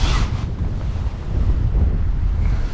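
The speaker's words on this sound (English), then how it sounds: "the wind gets up" Wind blowing by a canal on the South Yorkshire Navigation at Pilkington, a loud steady rumble buffeting the microphone with gusty swells and no talking.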